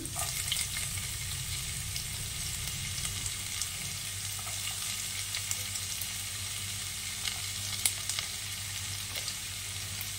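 Chopped ginger sizzles in hot oil for an egg curry, a steady close hiss with faint crackles and a low hum underneath, continuous throughout and with no talking.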